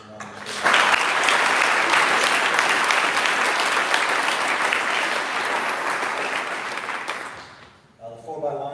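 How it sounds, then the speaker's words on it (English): Sustained applause from a sizable crowd at an awards night, dense clapping that starts abruptly, holds steady for several seconds, then fades out, with a voice briefly returning. "Let's give them a round of applause."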